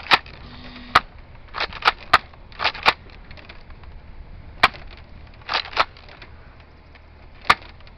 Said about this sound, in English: It barely even came out the gun, Hazel.